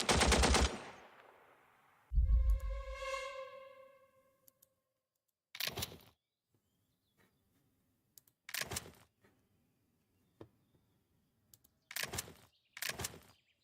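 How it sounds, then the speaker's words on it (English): Gunfire in the war video game Valor and Victory: a loud burst opens, followed by a sustained ringing, descending tone, then several short, sharp shots spaced a second or two apart, with no talking. "I'm loading up and firing"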